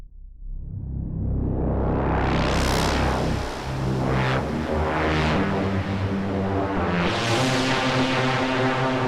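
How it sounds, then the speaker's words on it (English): Monster synth lead run through a ping-pong delay and a huge Valhalla Supermassive reverb, with big rising sweeps and held tones that bloom into a long, washing tail, loud and alone. "And then after this, a huge reverb. I'm going to use the Valhalla Supermassive, which is a free reverb,"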